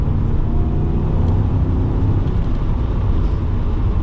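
A BMW 535i E39 with a V8 and manual gearbox pulls under acceleration, giving a deep, loud, continuous engine rumble heard from inside the car, steady throughout with no talking.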